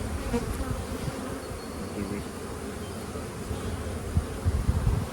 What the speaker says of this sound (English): we want to primarily focus on the nurse bees because those are the ones that just emerged